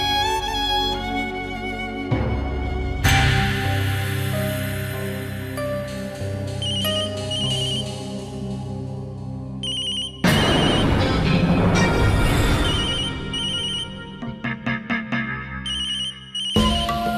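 A telephone rings in an indoor drama scene, its electronic ringtone repeating in bright tonal bursts over musical background, loud and close with no talk.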